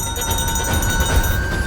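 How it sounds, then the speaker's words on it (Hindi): A bell rings steadily in a tense CID TV drama scene involving a time bomb, a loud, sustained metallic tone that holds without a break over a busy background. "घंटी।"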